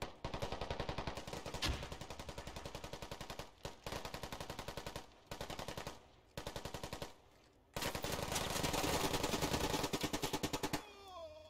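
Sustained automatic gunfire in the military shooter game Squad, long rapid bursts of machine-gun fire separated by short pauses, loud and close, with no talk over it.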